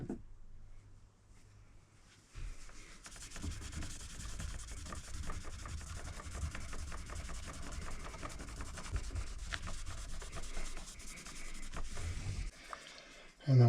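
Dunlop fretboard cleaner and prep being rubbed onto a guitar fretboard, a steady scratchy rubbing that runs for about ten seconds at close range, with a brief knock near the end.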